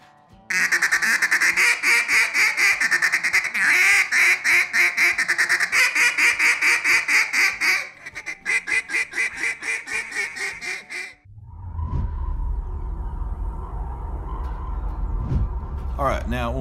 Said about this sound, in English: I prefer to mix it in and do the refuge feed with broken feed rather than rolling